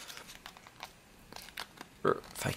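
Cardboard and plastic wrapping of a Magic: The Gathering Portal Second Age player starter set being opened, giving close, quiet crinkling and tearing in short bursts that swell louder near the end.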